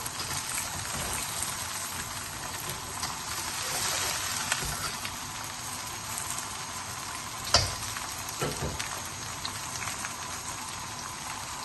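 Masala bhindi, cut okra, frying in a pan with a continuous dense sizzle and crackle, steady and close, with a couple of brief sharp clinks from stirring.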